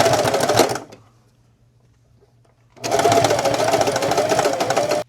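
A sewing machine stitches a hood onto a patchwork wizard hoodie, giving a close, steady motor whir in two bursts with a short quiet gap between them.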